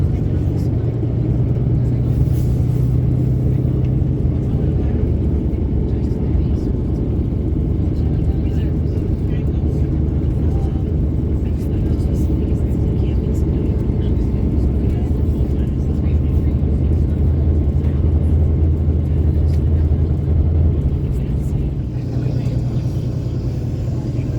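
A steady, loud low rumble of an airliner taxiing at Heathrow Airport runs through the whole stretch, with a faint engine whine above it and no talking.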